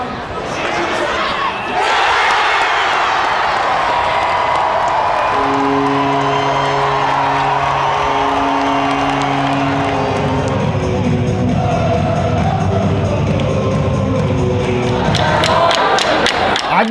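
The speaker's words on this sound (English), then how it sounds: "The crowd is absolutely buzzing." At a Quinnipiac college hockey game, a large arena crowd gives off a loud, constant roar. Cheers and whoops rise over it, a band plays sustained brass notes through the middle, and a person talks over the din.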